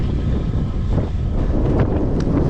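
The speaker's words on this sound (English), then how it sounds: "It's quite windy today" Steady wind rumbles and buffets against the microphone while out cycling, a constant loud roar with gusty fluctuations and no voices.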